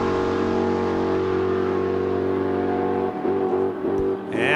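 A race car at Saskatchewan International Raceway in Saskatoon holds a loud, steady engine drone at the start line, then the pitch shifts and it surges off with rising revs at the end.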